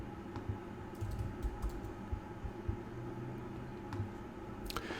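Quiet typing on a computer keyboard, soft scattered key clicks over a low room hum, a few brief bursts of keystrokes with no talk.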